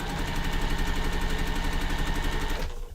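A sewing machine runs steadily while stitching quilt pieces together, giving a close, rapid rhythmic whir that stops just before the end.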